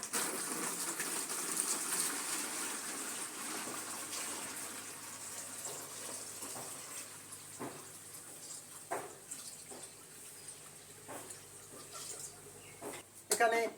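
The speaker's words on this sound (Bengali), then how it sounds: "এটার মধ্যে এবার জল দিয়ে দেব।" Water poured into a drum, a faint continuous gushing splash running under quiet background, with a few soft knocks and clicks near the end.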